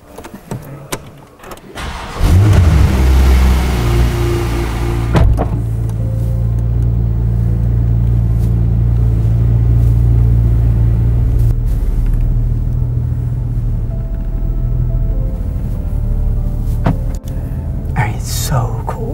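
A Porsche 991.2 Turbo S starts up on its first start, the engine catching with a loud surge and settling into a steady, deep idle rumble with light revving, close by, with a few brief voices nearby.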